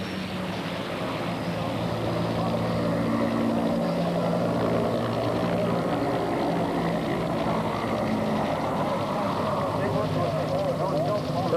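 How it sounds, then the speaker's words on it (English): UH-60 Blackhawk helicopters depart a landing zone after a light infantry platoon boards, their steady droning rotor and engine roar filling the scene continuously while a narrator talks over it. "Light Infantry platoon rapidly boards its UH-60 Blackhawk helicopters"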